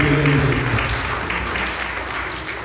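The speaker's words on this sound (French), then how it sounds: "On applaudit les seigneurs" Church congregation applauding during a Sunday service, a loud, dense wash of clapping that starts strong and eases slightly over a few seconds, with a sustained tone and murmuring underneath at the start.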